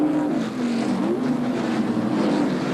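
Kmart Chevy NASCAR race car at Bathurst in 1996, its engine holding a loud, steady droning note that rises and falls slightly as the car runs past on the circuit, continuous with no talk.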